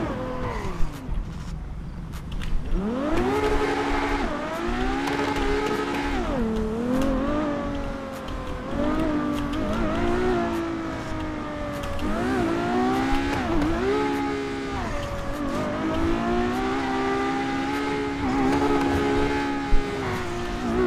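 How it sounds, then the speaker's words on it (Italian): A modded Ferrari in GTA 5 drives fast, with its engine revving up and down repeatedly through gear changes. The loud, continuous sound carries tire noise and has no talk. "in questo caso posso dire questa Ferrari arriva fino alla terza marcia, però è buggata e va veloce."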